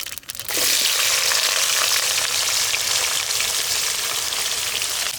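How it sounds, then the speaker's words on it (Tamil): Mustard seeds and onions hit hot oil in a village kitchen and set off a loud, continuous crackling sizzle that stays steady for several seconds at close range. "எண்ணெய் சூடானதுக்கப்புறம் கொஞ்சமாக கடுகு போட்டுக்கோங்க. வெங்காயம் கொஞ்சம் போட்டுக்கோங்க."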